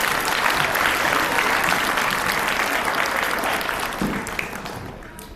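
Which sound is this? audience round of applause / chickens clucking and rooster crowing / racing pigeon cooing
audience round of applause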